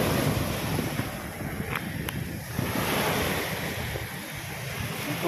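Steady roar of surf at Manila Bay with waves breaking continuously, broadband wash and wind rumble throughout, loud and close.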